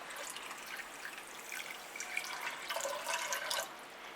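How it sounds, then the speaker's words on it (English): Water poured from above into a pot on a stove set to medium heat, the start of a sugar syrup for limoncello. A faint, steady trickle and splash runs throughout with no talking. "And put the water in there."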